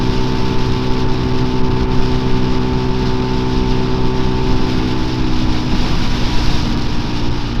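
A 2024 MUTT DRK 250 motorcycle engine drones steadily while riding, a loud continuous mid-pitched hum with wind rush, holding constant throughout with no voices.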